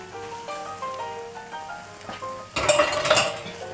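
Llama testicles go into a pan after soft melodic tones, followed by a sudden burst of close clattering and sizzling that continues to the end.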